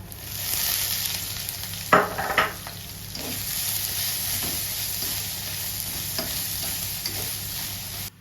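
Masala with grated coconut frying in a pan, a steady soft sizzle broken by a few sharp scraping stirs of a spoon, close and alone.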